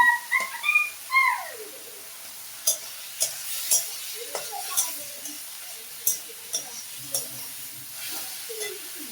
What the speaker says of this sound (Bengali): চিংড়ি মাছগুলো ভাজা ভাজা হয়ে গেছে।